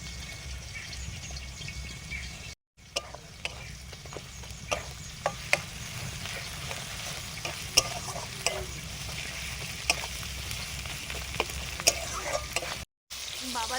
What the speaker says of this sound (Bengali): এবারে মাংসটা রান্না করতে হবে